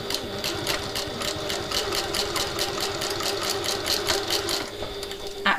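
A sewing machine stitches a backpack seam in fast, even bursts of close mechanical chatter over a steady motor hum, with no talk.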